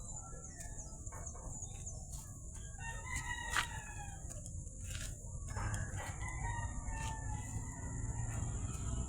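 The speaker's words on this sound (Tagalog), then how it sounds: "nagpapakain ako ng aking alagang mga manok" Pet chickens on a farm path cluck as a rooster crows repeatedly, moderately close, over steady outdoor background noise and a persistent high insect-like whine.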